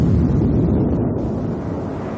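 Boeing B-47 jet bomber taking off, a loud steady broadband roar of jet engines filling the scene without pause, with no voices.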